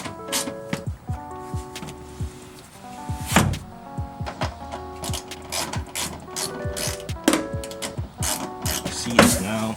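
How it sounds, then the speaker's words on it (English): Ratchet wrench tightening the center seat bolts inside a Subaru Impreza during an STI interior swap, repeated quick clicking bursts with knocks and thunks of metal parts, close and fairly loud, no talking. "you're gonna have to put those bolts back on in the center"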